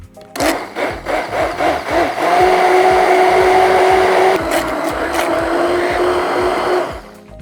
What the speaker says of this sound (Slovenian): Kadar blendamo pireje s paličnim mešalnikom